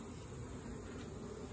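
Honeybees hum around an open nuc hive as frames of drawn comb with eggs are handled, a soft continuous drone close by, no talk.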